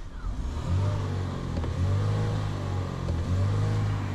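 A 2024 MG HS 1.5 T-GDI turbocharged four-cylinder petrol engine starts and settles into a steady, smooth idle, heard close and alone with a low even hum.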